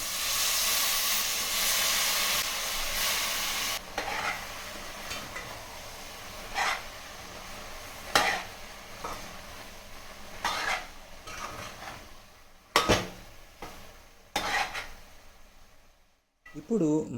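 Tomatoes with chilli powder, salt and gongura leaves stirred in a hot pan, a constant steamy hiss overlaid with irregular scraping and clanking of a spoon against the pan.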